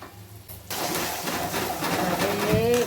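Beaten egg mixed with masala poured into a hot kadai, bursting into a steady crackling sizzle that starts abruptly and continues close up, with faint household sounds behind it.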